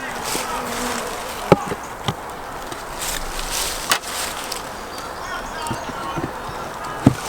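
Honeybees in overwintering nucs strapped together for warmth in winter give a steady, dense buzzing hum, with a few sharp knocks and clicks on top.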